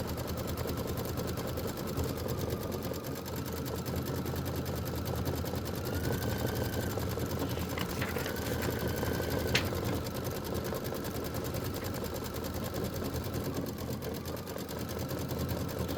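Embroidery sewing machine stitching a satin stitch perimeter around a sunflower design, a steady continuous rapid mechanical whir with faint higher tones, moderately quiet and unbroken throughout, no talking.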